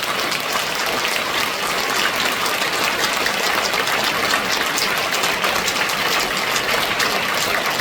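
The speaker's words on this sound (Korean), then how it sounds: "성도님께서는 큰 박수로 함께해 주시기를 바랍니다." A large church congregation at a world mission conference gives sustained loud applause, a dense, even roar of many hands that sounds almost like heavy rain and stays unbroken throughout.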